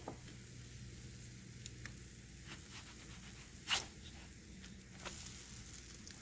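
A pancake sizzles quietly in a hot pan just after being flipped, a soft steady frying hiss with a few brief crackles and one sharper scrape or spatter.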